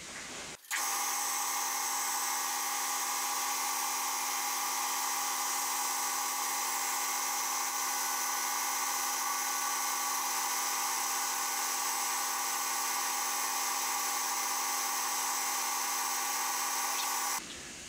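A wooden spinning top turns on a lathe while sandpaper strips sand it, producing a continuous loud whirring hiss with a steady drone that runs without pause for about seventeen seconds.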